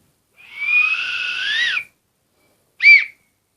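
A long shrill police whistle blast, then a short sharp second toot after a brief pause, loud and close.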